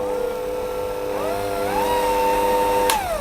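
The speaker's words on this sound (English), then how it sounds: "put the egg whites in with a pinch of salt and use the hand mixer to mix them" An electric hand mixer whisks egg whites with a pinch of salt in a bowl, giving a steady, loud motor whine that shifts pitch partway through before stopping abruptly near the end, with no talking.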